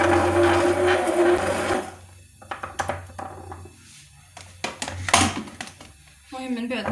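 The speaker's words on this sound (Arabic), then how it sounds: "غادي انا كنخدم هذا الميكسور" An electric mixer blending juice: a loud motor whir for about two seconds, then knocks and clatter as the machine is handled, and the motor starting again at the end, with someone talking.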